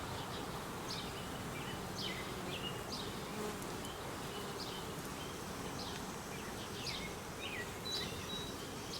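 A honey bee swarm buzzes continuously during a suburban hive transfer, a low dense drone with individual bees zipping past up close, steady and fairly quiet, with a faint bird call in the background.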